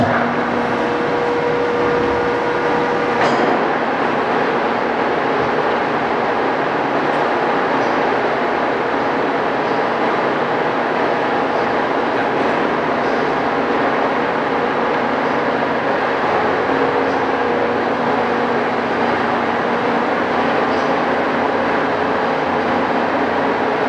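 A Giddings & Lewis horizontal boring mill with a 4-inch spindle runs with a constant broad mechanical rumble and hiss, steady and fairly loud throughout, with no talking.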